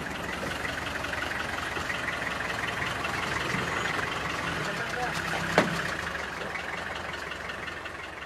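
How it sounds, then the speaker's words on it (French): Truck engine mounted on a river ferry built from planks nailed across dugout pirogues in Madagascar, a steady mid-pitched idling drone running throughout with a brief knock partway through. "ajouter une cabine de camion avec son moteur, et vous avez un bac pour traverser le fleuve"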